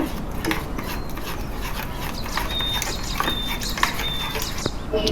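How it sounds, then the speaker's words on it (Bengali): A spoon stirs palm puree into a batter in a bowl for bibikhana pitha, making steady scraping and soft clinking sounds with occasional small taps against the dish. "এতে 1 কাপ তালের পিউরি মিশিয়ে দিলাম, ভালো করে নেড়ে নিব।"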